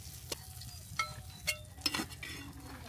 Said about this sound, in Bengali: হাঁড়িতে মাছও ভেজে নিয়েছি, বেগুনও ভাজতেছি।